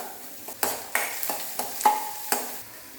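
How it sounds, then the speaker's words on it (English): Half an onion being sautéd in a pan until slightly brown, with about six distinct spatula strokes clacking and scraping at a steady rhythm over a faint background sizzle, close by. "I'll just saute it till it is slightly brown in color."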